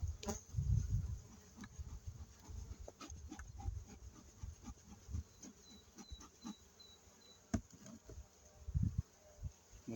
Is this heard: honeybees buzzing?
yes